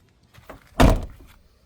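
A truck's rear sliding door rolls and shuts with a single solid thunk, preceded by a short sliding rumble and a faint rattle as it settles.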